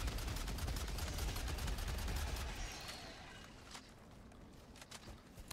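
Rapid bursts of gunfire from a bug-shooting video game, loud and dense for the first three seconds, then thinning to scattered shots and a final burst.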